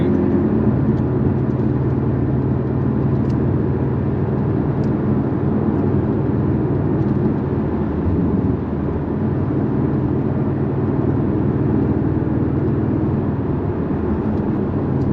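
A new Porsche cruising on the road gives a steady, low engine and tire drone heard from inside the cabin, constant and fairly loud with no breaks.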